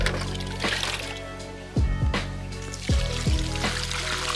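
Water pours and trickles onto plants in a home garden, a close, steady stream with a few louder splashy bursts.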